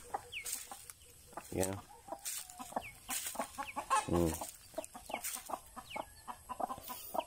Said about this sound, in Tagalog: Ganda ng itsura ng ng tandang natin